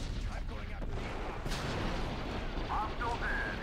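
Blaster gunfire and explosions from a Star Wars Battlefront 2 battle roll on steadily as dense, overlapping booms and shots, with a player talking faintly beneath the din.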